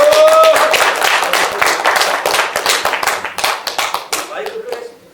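An audience in a lecture hall claps to welcome a lecturer arriving to speak on overcoming marital conflict, loud, close, dense clapping that thins into a few scattered claps and fades out.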